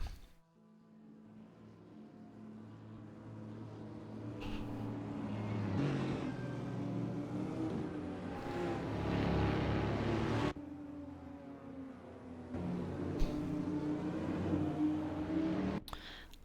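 Engines of GT4 racing cars at Sonoma in Assetto Corsa, a steady drone of several cars in a line rising and shifting in pitch as they pass, with a brief gap in the middle before the roar returns.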